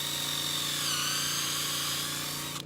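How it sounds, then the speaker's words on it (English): A power drill with a countersink bit bores into plastic lumber for landscape edging, giving a loud, steady high whine with a low motor hum that holds for nearly three seconds, then winds down at the very end. "So I drill that out a little bit, let it countersink some, drill it out the rest."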